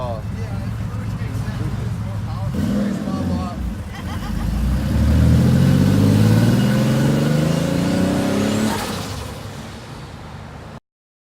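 A modified turbocharged Porsche's engine swells from idle into a loud, rising rev that holds for several seconds before easing off, with people talking over it.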